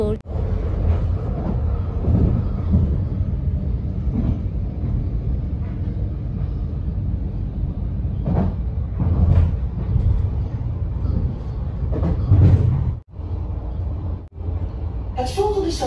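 A train running along the rails on a Dutch line near Zutphen, a steady low rumble and clatter throughout, with a voice talking over it and a brief dropout near the end.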